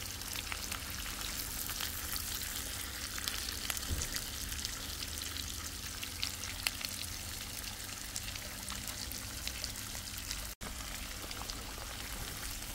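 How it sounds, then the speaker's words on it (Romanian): Smoked sausages, bacon and chorizo fry in lard, a dense, constant sizzle and crackle that stays steady and close, with a brief pause near the end and no talking. "Cârnații mei s-au prăjit împreună cu sălinuța, cu chorizo, în untură."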